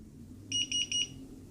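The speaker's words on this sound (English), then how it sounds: "So if you're recording, it makes this loud beep." A Removu K1 gimbal video camera with an integrated 3-axis stabilizer emits a loud recording beep, three short high-pitched tones in quick even succession over quiet room background.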